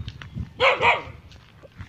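A dog gives two quick barks close by, loud and sharp, with faint background rustle before and after.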